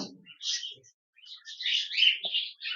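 High, thin chirping of cockatiel chicks nearby, a scratchy run of calls that pauses briefly, then continues steadily.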